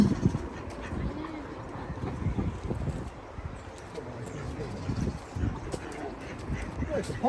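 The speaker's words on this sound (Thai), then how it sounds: "มีเป็ดด้วยไหมนี่" Ducks quacking in a busy outdoor scene, with people talking nearby and general background noise.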